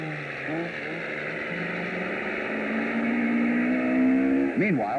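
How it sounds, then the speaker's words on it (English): The 240-horsepower Fiat rally car's engine at the 1980 Argentina rally hums steadily and climbs gradually in pitch, then briefly revs and drops near the end, moderately loud and continuous. "German driver Walter Rohr enjoying the 240 horsepower of his Fiat"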